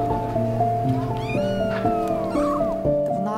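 A cat meows at a contact farm in Odesa, several drawn-out rising and falling calls, fairly close, over a steady tonal hum.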